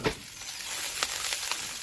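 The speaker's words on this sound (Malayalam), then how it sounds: "എന്നിട്ട് അതിലേക്ക് പച്ചമുളകും കറിവേപ്പിലയും വെളുത്തുള്ളി പൊടിയായിട്ടിരുന്നത് എല്ലാം കൂടെ ചേർത്ത് വീണ്ടും വഴറ്റുക" Shallots, green chillies, curry leaves and garlic sautéing in a pan, a soft continuous sizzle with brief spoon taps and scrapes, fairly quiet and without talk.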